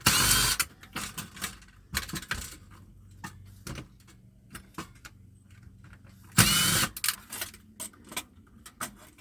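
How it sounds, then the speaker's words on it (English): Screws being removed from scrap electronics with a power driver, short bursts of whirring motor in irregular spurts with clicks and rattles between, plus two longer loud bursts, close and alone. "So basically just removing all the screws I can see."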